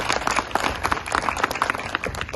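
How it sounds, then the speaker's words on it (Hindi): A crowd at an Art of Living talk bursts into hearty applause, a thick, lively wash of many hands clapping with uneven peaks, continuous and fairly close. "एक बार जोरदार तालियां बजाओ इनके लिए"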